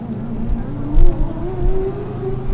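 A Formula Student race car, car 67 from Trondheim, drives an autocross course with a loud, close engine whine that climbs steadily in pitch as it accelerates, with a brief surge partway through.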